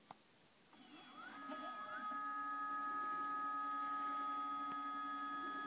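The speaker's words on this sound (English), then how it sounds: "that is the sound of the mount slewing" A SkyWatcher AZ-EQ6 telescope mount slewing toward a target, its motors rising in pitch and then holding a steady whining hum with layered tones, close and fairly quiet, after a single click.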